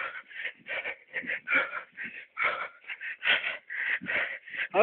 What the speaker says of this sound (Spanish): Solo escucha mi respiración.